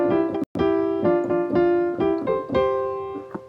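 A piano plays the simple Mary Had a Little Lamb melody as a single line, a handful of clear sustained notes in a moderate, even rhythm, close and moderately loud with nothing else behind it.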